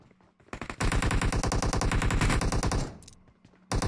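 Rapid automatic gunfire in a video game, a loud close burst of fast, evenly spaced shots lasting about two seconds, then a short lull before another burst starts.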